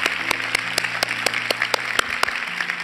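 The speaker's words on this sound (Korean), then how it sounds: "우리 수고하신 분들에게 한 번 더 우리 감사의 박수 드리겠습니다." An audience applauds at a Christmas Eve church service in Seoul. The clapping is steady and rhythmic, set over faint sustained background tones.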